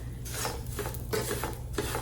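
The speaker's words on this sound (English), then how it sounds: "I'm just going to go ahead and stir this" Roasting vermicelli with roasted pistachios and almond slices being stirred in a flat pan, giving soft, repeated scraping and rustling strokes at close range over a steady background hum.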